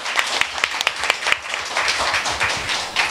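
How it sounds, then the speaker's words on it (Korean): Audience at a Korean book concert on anti-Japanese resistance music breaks into applause, with crisp, fairly near hand claps forming a lively, uneven patter that holds for a few seconds. "박수 한번 부탁드립니다"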